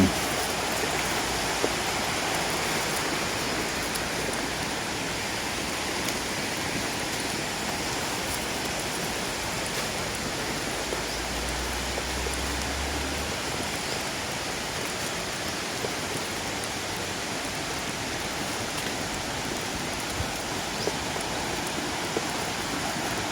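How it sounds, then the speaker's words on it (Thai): Huay Kaew waterfall in Doi Suthep-Pui National Park, Chiang Mai, gives a steady, broad rush of falling water, an even roar with no pauses and no voices. "นไี่ครับ น้ำตกห้วยแก้ว"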